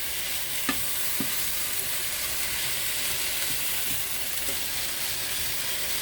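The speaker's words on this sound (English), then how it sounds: "this is almost sauteing up real good" Food sautéing in a pan before poblano peppers go in, a constant loud sizzle and hiss with a few faint clicks of stirring, no talk.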